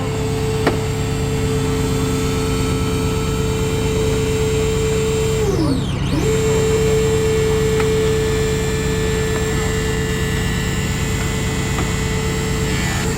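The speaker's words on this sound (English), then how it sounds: "the advantages of any battery tool now is you don't have hoses hanging all over the place" A battery-powered rescue tool cuts into a car during a fire department extrication demonstration, producing a loud, steady motor whine and drone that dips briefly in pitch partway through as the load shifts, then recovers and runs on.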